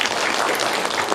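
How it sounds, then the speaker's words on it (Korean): Audience applause at a band's regular concert, a steady dense wash of clapping that fills the short moment at a fairly loud, even level without any voices over it. "박수 한번 주세요."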